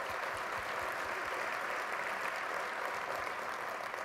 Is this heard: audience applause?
yes